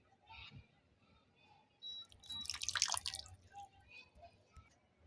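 Milk and vanilla essence poured into banana cake batter in a bowl: a loud, splashy pour that swells for about a second in the middle, with faint drips before and after.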